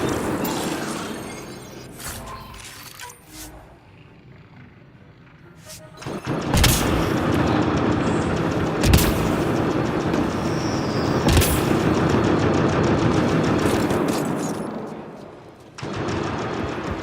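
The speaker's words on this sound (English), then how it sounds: "Sounds like a turret." Turret gunfire in a sci-fi shooter video game: sustained loud mechanical firing bursts with booming impacts, starting after a quieter stretch and continuing steadily, with a brief pause before resuming.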